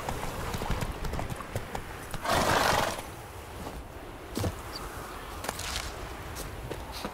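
Horse hooves clip-clopping at a steady walking pace while riding through The Witcher 3, close and continuous, with a brief louder rustle partway through and ambient game sound beneath.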